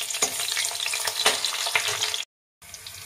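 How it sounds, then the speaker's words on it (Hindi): Fenugreek seeds crackle and sizzle loudly in hot oil in a traditional kitchen, a dense close frying hiss with brief stirring scrapes, cutting out abruptly for a moment before resuming. "ऑयल गर्म हो चुका है, इसमें हम मेथी ऐड करेंगे।"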